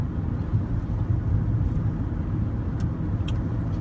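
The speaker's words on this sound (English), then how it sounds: "This traffic is a beast." Road traffic heard from inside a moving car: a steady, low rumbling drone of engine and tyre noise, continuous and fairly loud, with faint brief ticks near the end.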